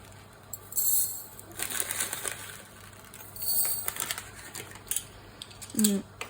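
Mustard seeds patter and clink into a glass jar in a few quick bursts, close up, with faint rustling between them and no talking.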